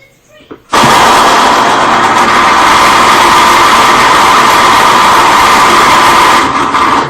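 A Cuisinart CCJ-500 pulp-control citrus juicer runs with a loud, steady motor whir that starts abruptly after a faint moment and holds constant at close range until it winds down near the end.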